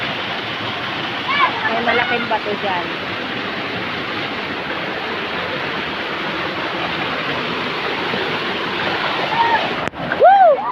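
Steady roaring rush of a waterfall at a nature spot, loud and constant throughout, with a person speaking briefly over it and a short shout near the end.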